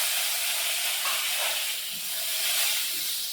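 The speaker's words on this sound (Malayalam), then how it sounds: "കടുക് ഇട്ട് കൊടുക്കുക, വറ്റൽമുളക് ഇട്ട് കൊടുക്കുക" Mustard seeds and dried red chillies sizzle steadily in hot oil, a close, continuous hiss for a few seconds with no talk.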